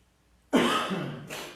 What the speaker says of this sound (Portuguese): eu tô com uma tosse alérgica